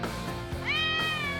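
Cats meowing up close, a drawn-out plaintive meow rising over a steady background hum, with another cat's shorter call overlapping.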